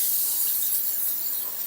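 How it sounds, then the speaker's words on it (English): Olive oil non-stick cooking spray hisses onto a baking tin in one continuous close burst, a bright airy spray that tapers slightly toward the end. "So I use an olive oil, non-stick spray, just regular."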